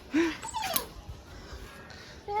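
A dog whimpers with a short high whine near the start, then softer faint whines and snuffling against background noise.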